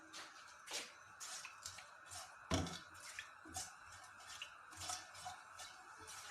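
Balti Gosht meat with ground garam masala is stirred in oil in a pot: quiet, scattered clinks and soft scrapes of a spoon against the pot, irregular and close, with no talking.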